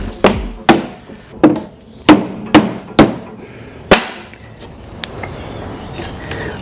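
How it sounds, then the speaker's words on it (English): An old wooden desk is hammered apart, with about seven sharp, loud wooden whacks at irregular intervals and a dowel snapping, followed by quieter rattling and a faint tap. "Ah, look, snap the dowel."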